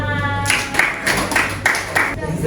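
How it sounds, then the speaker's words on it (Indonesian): Students in an informatics class clap together in a few loud, rhythmic bursts spaced roughly half a second apart, close by, after a brief tonal sound at the start. "Terima kasih Aga, tepuk tangan."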